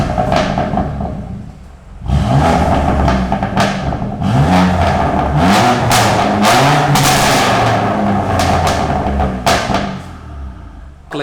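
A BMW M3 with a custom Akrapovic exhaust and single midpipe revs up sharply several times in a row. Each rev is a loud, rising roar that drops back to a rumbling idle in between.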